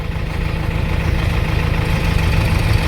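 Close, loud tractor engine at idle, a continuous low throbbing rumble holding steady throughout.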